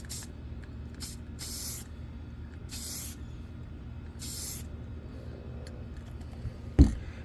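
Aerosol can of gloss clear enamel spraying a thin coat: three or four short hissing bursts about a second each with pauses between, close and fairly loud, ending with a sharp knock.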